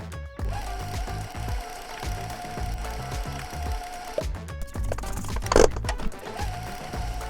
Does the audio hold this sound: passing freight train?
no